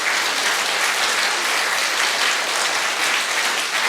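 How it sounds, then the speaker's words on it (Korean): A church congregation gives a sustained, even round of applause for the youth at a dedication service, a dense wash of clapping filling the hall at steady loudness without a break. "청년들 한번 격려하는 박수라도 한번 보내주시지 않겠습니까?"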